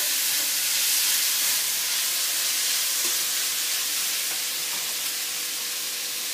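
Vegetable noodles are stir-fried in a hot pan with a loud, continuous sizzling hiss that holds steady throughout, with faint stirring scrapes beneath it.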